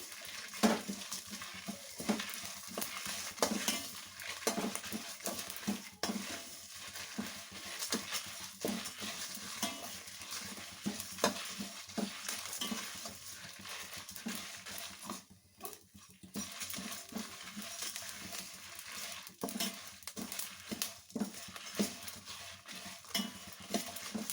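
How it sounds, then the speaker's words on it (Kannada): Dried Guntur chillies, about 25 grams, frying in a pan while being stirred, giving a steady low sizzle with frequent scraping and clinking of a spoon against the metal throughout, fairly close and with no talking. "ಇದು ಒಂದು 2 ನಿಮಿಷ ಹಾಕಿ ಫ್ರೈ ಆಗಲಿ"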